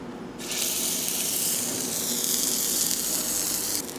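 A 200 g US beef tenderloin steak hits a smoking-hot oiled pan, bursting into a loud, steady sizzle that holds close and even before cutting off near the end.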